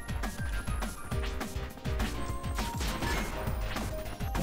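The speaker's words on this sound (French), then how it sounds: "Bon, sympa l'explosion." Explosions and impact blasts in the PC video game Super Alloy Ranger, a dense run of loud, repeated booming crashes and thuds over busy game sound, with no talk.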